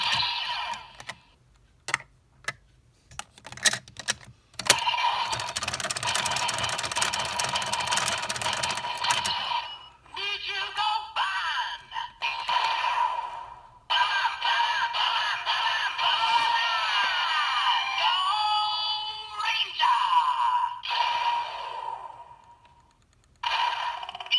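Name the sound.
electronic techno sound effect from toy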